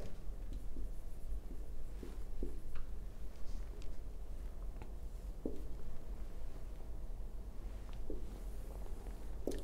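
Pen scratching and tapping on paper while a cobweb diagram is drawn for an A-level maths iteration lesson, with short, quiet strokes spread unevenly at close range and no talking.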